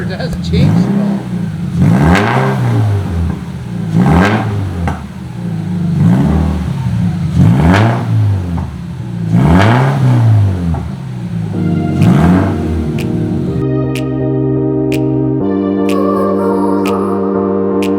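A Subaru BRZ / Scion FRS with a stage 2 clutch is revved repeatedly, five loud rising-and-falling engine swells in a steady rhythm, then it settles into a more even, tonal drone.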